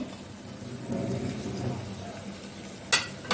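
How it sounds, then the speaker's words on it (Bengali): Spices, including salt, cumin powder and coriander powder, fry with tomato in a pan for a chickpea dish while being stirred. There is a soft sizzle and a scraping stir, then a sharp utensil clack near the end. "ঢেলে দিয়ে মশলাটা একটু হালকাভাবে কষিয়ে নিতে হবে নেড়ে চেড়ে"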